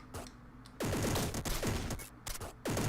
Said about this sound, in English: Sort of booming sound from its original version.